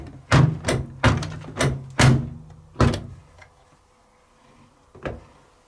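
A 2007 CDA (Fagor) CI830 6kg washer dryer door is opened and shut repeatedly, giving a run of sharp close thunks and clicks followed by a pause and one final knock.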